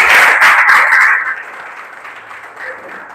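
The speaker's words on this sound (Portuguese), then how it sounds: "Vou dar uma salva de palmas a Jesus." A church congregation claps for Jesus in a loud, dense burst of applause that fades after about a second into a softer, scattered patter.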